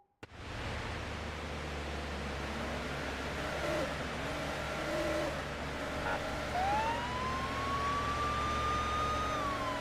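A police car siren sounds in the driving game Police Simulator Patrol Officers over constant engine and road noise, a rising, wailing tone emerging in the latter half and holding steady.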